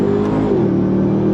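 Hennessey Ram TRX Mammoth supercharged pickup truck pulling away from a dead stop in first gear, a loud, close, steady engine roar with rising whine, no talk.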